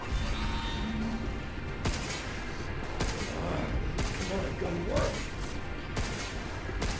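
Video game weapon fire, a steady run of loud shots and bursts with sharp onsets every second or so, layered over continuous game noise and a low voice in the background.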